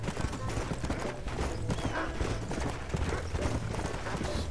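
Horse hooves clip-clop in the video game Red Dead Redemption, a steady rhythmic run of close hoofbeats over a dense bed of game sound and music.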